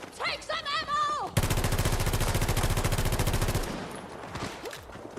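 Rapid automatic gunfire from a shooting video game bursts out loud and dense for about two seconds, following a short stretch of chirpy game sounds and voices, then trails off into quieter ambience.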